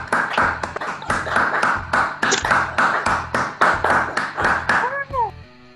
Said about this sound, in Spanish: brindarles un fuerte aplauso a los ganadores de las becas a la excelencia